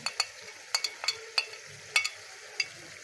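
Spices stirred into tomato paste for a fish curry: a soft background sizzle broken by sharp, scattered scrapes and clinks of a spoon against the pan, several quick strokes in a row.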